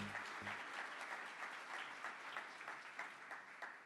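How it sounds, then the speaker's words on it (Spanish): Steady applause from an audience at an event for a group named Algoritmos Medellín, with dense, continuous clapping that sounds fairly faint and distant and keeps going for several seconds. "Otro aplauso para Algoritmos Medellín"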